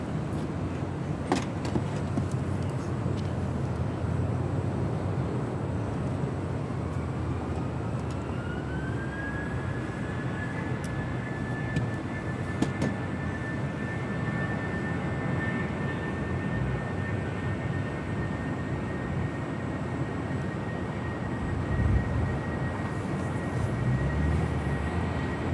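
A FedEx airplane at Los Angeles International Airport gives off a steady, distant jet roar across a wide outdoor soundscape, with a rising turbine whine building in the middle and holding steady.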